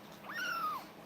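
A long-haired cat with big paws gives a single drawn-out meow, rising then sliding down in pitch, close and clear over a faint background hiss.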